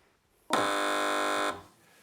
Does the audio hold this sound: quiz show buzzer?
yes